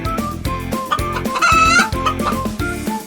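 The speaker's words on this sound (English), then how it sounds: "That's right. It's a chicken." A chicken clucks and crows in repeated bursts over a bouncy background music track with a steady rhythmic beat, the bird calls loud and close.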